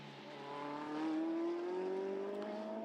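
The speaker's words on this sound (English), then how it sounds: "As the Ferrari gets on the brakes into turn 14, Ramos rides the curbs" A Ferrari GT race car on the Hungaroring track gives a sustained engine tone that rises steadily in pitch as it accelerates, fairly loud and heard alone.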